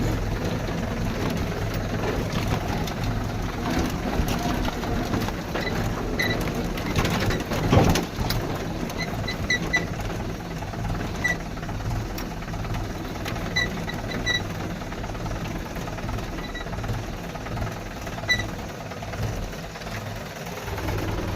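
A steady low tractor engine rumble drones throughout as it drives over a field, with faint bird chirps and occasional clanks scattered over it, no talking.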